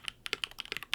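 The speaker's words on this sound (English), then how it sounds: "It makes your keyboard sound like this" Brisk typing on a stock mechanical keyboard, a KBD67lite or NK65 without foam or tape mods: about a dozen bright, clacky keystrokes in quick, uneven succession, close and fairly quiet.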